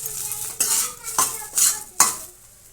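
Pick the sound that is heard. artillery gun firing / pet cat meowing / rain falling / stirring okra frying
stirring okra frying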